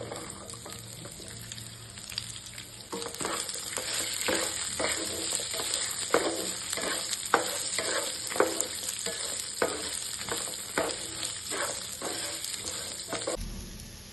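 Onions with ginger garlic frying in a pan for a spicy mutton curry, a continuous near sizzle with frequent stirring scrapes throughout and a brief thump at the end, no voices present.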